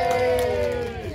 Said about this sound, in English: So on three, if you all give him a cheer, he's going to jump.